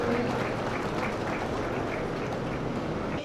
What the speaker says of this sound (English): Let's give this group of awesome cows a round of applause.